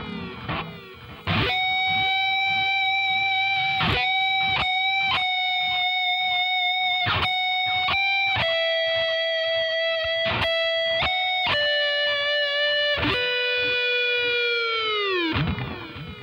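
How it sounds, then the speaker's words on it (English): An overdriven electric guitar plays a sustained, vibrato-laden solo line from a song, with picked notes sliding upward before a tremolo-bar dive drops the pitch sharply at the end. "there's a dive with the tremolo bar"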